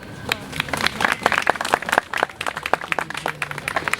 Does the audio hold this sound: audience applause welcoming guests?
yes